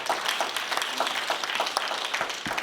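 An audience at a book signing event applauds steadily for the speaker's two daughters, a dense wash of many hands clapping at moderate distance with a few sharper individual claps.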